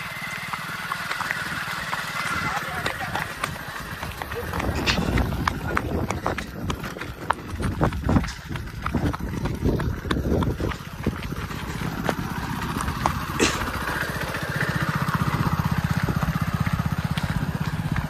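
Motorcycle ridden by a learner practising throttle and gear changes outdoors, a rough engine note rising and falling with clunky shifts and wind rumble over a continuous drone, with people talking intermittently.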